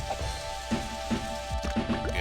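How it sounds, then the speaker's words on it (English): Rain falls on Lake Paradise in the SEGA Bass Fishing video game, a soft, steady patter under quiet game music tones. "Lake Paradise. It's rainy"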